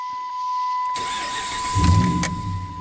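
A Dodge Ram engine cranks and fires up close, turning from the starter's whir into a rising rev that settles toward a running idle, with a steady beep tone throughout and no talk.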